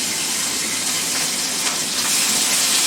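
Garlic frying and being stirred in a hot pan alongside spinach, a steady close sizzle without pause.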